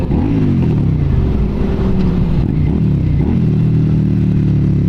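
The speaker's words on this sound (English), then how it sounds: "Give it a rev for a test." A motorcycle engine revs loudly and close, a deep rumbling exhaust rising and falling in pitch through a quick throttle blip, heard from the rider's position on a cruise along the Pacific Coast Highway.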